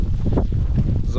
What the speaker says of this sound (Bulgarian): Задуха вятър, който не ми харесва.